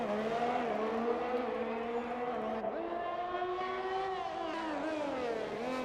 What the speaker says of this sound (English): The engine is whirring and groaning.